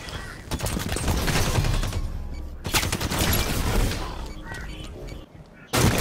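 Sniper gunfire in a 2v2 shooter video game, with loud sharp shot bursts and booms clustered through the opening seconds, a brief gap, then more rapid fire and a final loud burst at the end.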